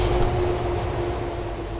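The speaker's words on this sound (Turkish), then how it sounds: "Yok ya trene bineceğiz burada." A train pulling in at a station in the video game GTA IV, a steady rumbling roll with a faint high squeal, close and unbroken.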